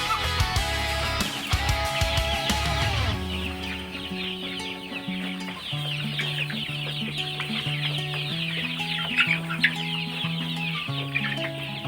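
Layer hens on a small poultry farm cluck and murmur in a busy, overlapping chorus that runs on continuously after a brief louder burst at the start.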